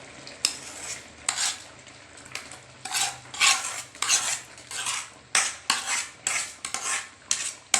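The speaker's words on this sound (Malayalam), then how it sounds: "എന്നിട്ട് നല്ലോണം ഇളക്കി യോജിപ്പിക്കുക" A utensil scrapes and clinks against a pan in repeated strokes, stirring jackfruit into boiling liquid, a steady rhythm with faint background hiss.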